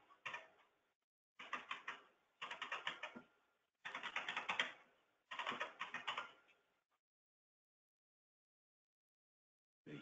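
A credit card number being typed on a computer keyboard comes in five quick bursts of close, clicky keystrokes separated by short pauses, then silence.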